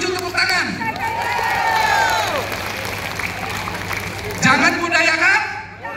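An audience at a stockist members' reward gathering cheers and shouts together with some clapping, voices rising and falling in a loud, close crowd burst.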